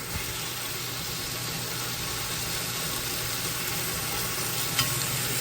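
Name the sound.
sautéing chicken in a pan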